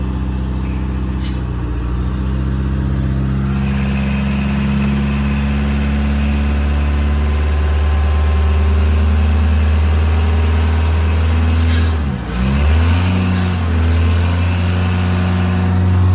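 A Detroit 4-53 diesel powering an old crane idles loud and close, a steady rumbling drone with a slight dip and recovery near the end; no talk.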